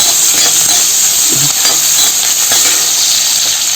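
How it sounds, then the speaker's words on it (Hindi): Onion frying in a home kitchen pan gives a steady, loud broadband sizzle with a few soft stirring clinks, and no one speaks over it. "अब मैं इसमें डाल रही हूँ प्याज"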